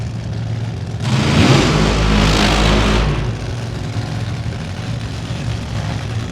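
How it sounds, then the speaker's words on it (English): Injected nitro drag racing car engine revving hard for about two seconds, a loud broadband roar that then drops back to a steady rumbling background of engine and crowd noise. "Now listen to the injected nitro car."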